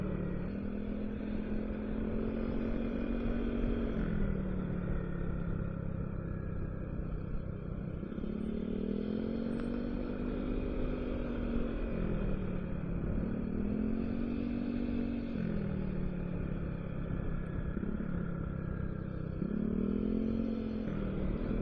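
A Yamaha XMax scooter cruising at night on the road toward Fraser's Hill, its engine drone steady and continuous with gentle rises and falls in pitch as the throttle is eased on and off, wind rush filling the background.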